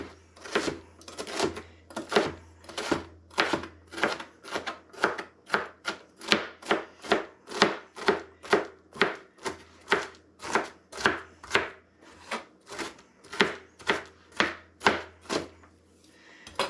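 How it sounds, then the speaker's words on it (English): A knife chops ingredients for clam chowder on a cutting board, a long, close, steady run of rhythmic thuds at about two per second, with no speech. "just kind of go back over with the blade to kind of get them into smaller pieces."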